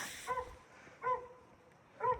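A German Shorthaired Pointer puppy gives three short, evenly spaced barks outdoors in the snow, fairly faint and sharp, with quiet pauses between them.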